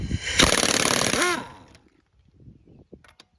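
A power tool, likely an impact wrench, zips off a lug nut from the wheel of a 2015 Buick Verano in one loud, buzzing, hammering burst of about a second, then quiet clicks and handling noises follow.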